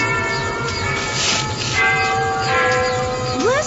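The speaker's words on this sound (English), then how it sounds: "Listen. There's the clock bell." Big Ben in London tolls with resonant, sustained ringing tones that overlap and hum, heard at a moderate distance.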